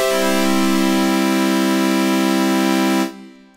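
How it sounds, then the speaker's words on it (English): A sustained, buzzy hard-sync synthesizer tone from Omnisphere, rich in harmonics, holds steady for about three seconds, then cuts off abruptly into silence. "Also, we have a hard sync, which sounds like this."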